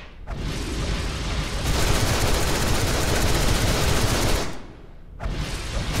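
Sustained rapid gunfire from DC Universe Online fills the clip as a dense, loud, continuous burst. It cuts off briefly near the end, then resumes. No voices are heard.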